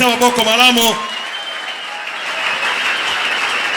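A church congregation applauds and cheers after a preacher's call to acclaim the word of God, with a voice at the start, then sustained mid-level clapping that carries on steadily to the end.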